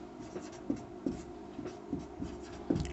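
Pen writing on paper, with a steady scratchy drag punctuated by several sharper taps and strokes, close and fairly quiet, no voices.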